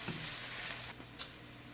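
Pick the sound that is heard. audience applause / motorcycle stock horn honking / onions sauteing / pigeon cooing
onions sauteing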